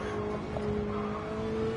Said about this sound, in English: listen to the naturally aspirated V8 engine